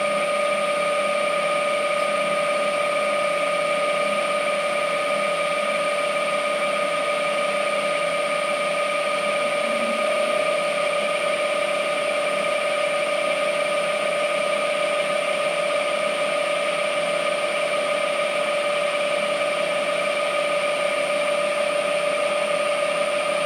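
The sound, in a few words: machine cutting first millimeter into engine part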